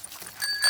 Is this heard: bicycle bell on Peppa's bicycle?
yes